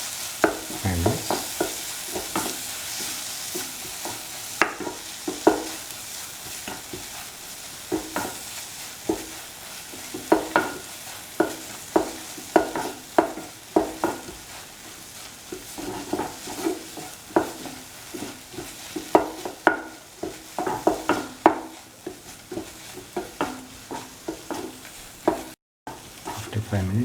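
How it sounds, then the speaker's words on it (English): Eggs are scrambled in a hot pan for a chipotle toast sandwich, with constant sizzling under frequent rhythmic spatula scrapes and stirs, close and continuous, without talking. "Thoroughly mix and scramble the egg for around"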